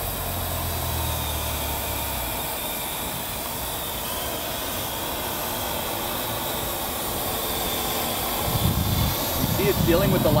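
Parrot AR.Drone quadcopter lifting off and flying outdoors in light wind, a steady close whirring rotor hiss throughout that rises and grows rougher near the end.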